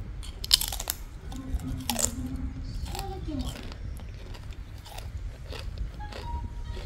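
Crisp homemade fried plantain chips are bitten and chewed, giving repeated close crunches in an irregular rhythm while someone talks over them.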